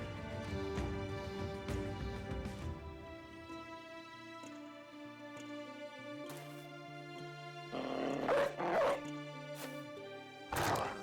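War dogs in the medieval strategy game Battle Brothers barking and attacking, with sharp yips and barks over droning game music and clashing effects, moderately loud and recurring in bursts.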